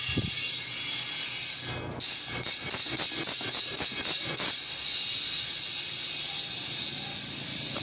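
Rapid mechanical clicking of a road bike's freehub ratchet comes in a rhythmic series of bursts over a steady hiss, then stops.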